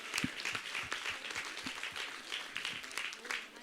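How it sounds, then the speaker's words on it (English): An audience at a youth climate summit applauds with scattered, moderately distant clapping that runs steadily throughout, a little loose and uneven rather than a big roar. "give a round of applause"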